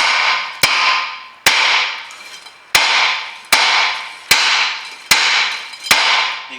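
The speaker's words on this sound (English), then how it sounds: "One of the easiest things to do first is just give it a few belts with the hammer." Hammer blows on a car's rear wheel hub to free a seized wheel bearing, eight sharp metallic strikes at roughly even intervals, each ringing briefly before the next, loud and close with no talk.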